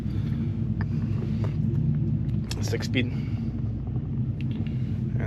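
A 2006 Dodge Ram SRT10 Viper truck with a six-speed manual idles after a push-button start, its V10 giving a steady, loud low rumble throughout while someone talks over it.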